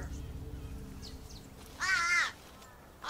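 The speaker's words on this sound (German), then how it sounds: "aufgeregtes Krähengeschrei" Agitated crows on a Komodo island habitat give two loud, harsh caws, separated by a short pause, over faint low background rumble.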